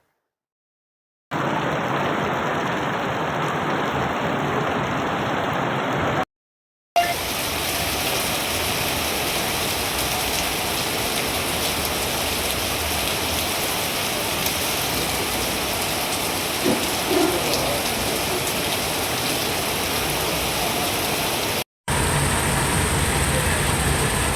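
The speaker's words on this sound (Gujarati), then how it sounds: "વરસાદી માહોલ પાલિતાણા શહેર તેમજ ગ્રામ્ય વિસ્તારમાં યથાવત જોવા મળી રહ્યો છે" Heavy rain pours steadily over Palitana town, a dense, continuous hiss of drops on surfaces that runs unbroken apart from a couple of brief cuts.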